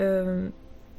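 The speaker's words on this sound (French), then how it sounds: "c'est mon chat qui vient de faire un petit bruit" A pet cat gives a short, tonal, whining note indoors that holds steady for about half a second, then breaks off into quiet room noise.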